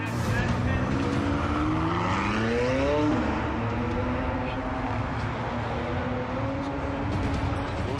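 A McLaren car being driven hard in a film stunt chase, its engine loud and close with a rising then falling whine as revs climb and drop, a continuous roar with a voice partly under it.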